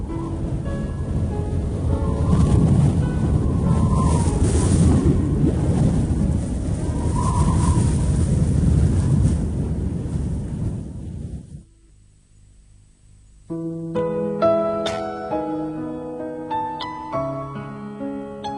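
Freezing wind roars steadily across a penguin winter habitat, a loud broadband rush with gusts for about eleven seconds before it cuts out and music takes over.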